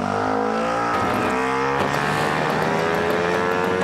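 A small nitro RC trainer plane engine drones steadily and loudly, its high-revving whining pitch shifting up and down, with no talking over it.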